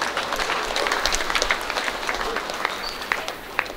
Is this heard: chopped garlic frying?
no